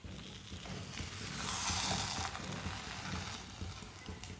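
Egg and daal breakfast, cooked flat like a roti, frying steadily in a pan, a continuous close sizzle that swells a little midway and holds with no voices.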